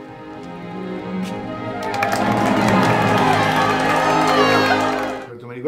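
Staged crowd cheering for a king, voices and shouts swelling from a murmur into a full roar of cheers and applause, then cutting off abruptly at the end.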